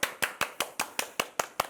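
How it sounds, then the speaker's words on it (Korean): A guest teacher is welcomed at a church youth summer retreat program with crisp, evenly spaced claps, about nine sharp hand claps in a steady quick rhythm, close and clear with no talking. "큰 박수로 모시겠습니다."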